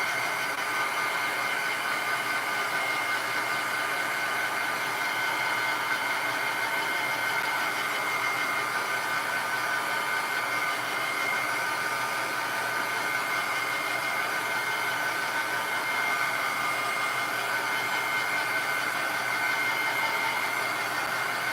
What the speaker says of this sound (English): Let's get the heat gun and dry that real quick.